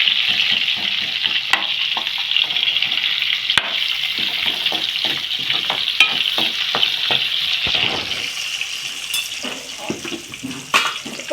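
Onions stirred in a pan with a pinch of asafoetida give a loud, continuous close sizzle, broken by quick repeated scraping stir strokes throughout.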